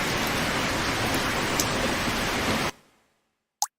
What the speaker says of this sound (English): That is actually some loud rain.